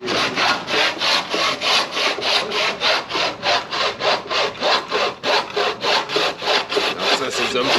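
A hand saw cutting straight through wood in a workshop, with loud, close, steady rhythmic rasping strokes, about two per second, continuing throughout.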